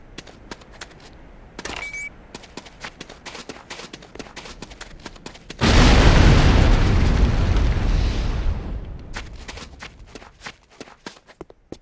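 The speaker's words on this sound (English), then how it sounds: "move to a safe distance before detonating with your secondary fire" A C4 charge detonates in the Command & Conquer: Renegade video game: a sudden loud, deep blast rolls out and fades over about three seconds, with quick footsteps clicking before and after it.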